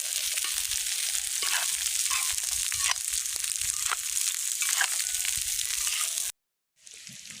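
Bell peppers and onions sizzle and crackle in a pan over an outdoor fire, a loud steady frying hiss with scraping stirs, cut off briefly near the end before resuming.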